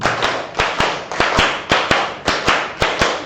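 Sharp, close hand claps from a group of teachers in a workshop, struck in tight bursts with brief pauses between groups, loud and crisp with no talking over them.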